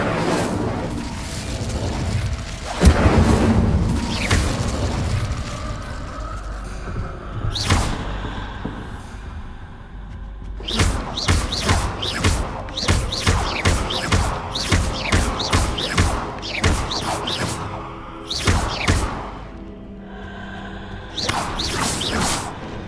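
Incendio fire spell cast in Hogwarts Legacy: whooshing bursts and booming fiery thuds, then a long run of rapid rhythmic impacts and swishes, loud and close with game effects and little talk.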